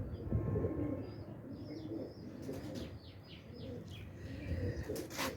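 Teddy pigeons coo softly in low repeated phrases, with wing flaps and a few chirps nearby, no talking.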